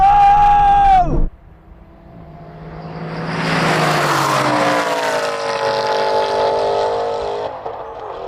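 An Aston Martin race car at a drag race: a high steady engine hold cuts off abruptly, then after a short lull a roaring launch builds into a loud, sustained howl of acceleration that fades slightly at the end.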